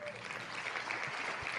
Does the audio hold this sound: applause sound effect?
yes